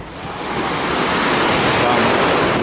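Steady, rushing, calm Mediterranean sea surf at Alanya, Turkey, washing onto a beach, swelling slightly louder and staying continuous, with no voices.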